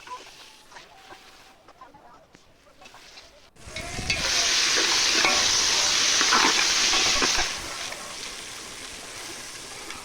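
Onions sauté in a large pot for chicken biryani, a quiet stir at first and then a loud, close, steady sizzle that eases off a little near the end.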